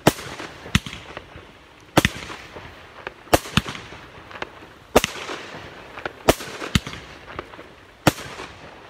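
Fireworks burst in a series of sharp, loud bangs from a Still Tigers firework by Absolute Fireworks, about eight over nine seconds, irregularly spaced with crackling and a hazy rumble between them.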